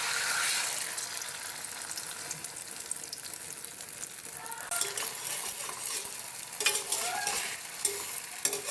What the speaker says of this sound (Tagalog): Prito naman tayo ng egg. Lagay tayong mantika.